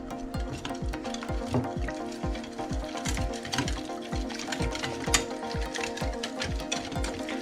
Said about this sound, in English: Now mix this.